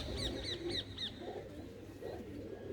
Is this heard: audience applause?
no